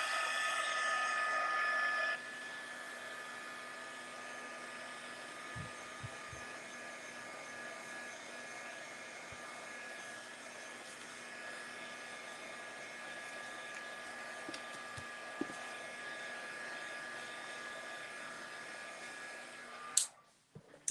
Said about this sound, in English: I'm going to heat this one up and with my heat gun just to dry it faster